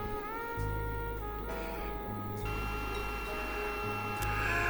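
A 3D printer laying down filament with its nozzle heating toward 220 °C gives off a steady mechanical whine and stepping motor tones that shift pitch in segments, with faint ticks and no voices.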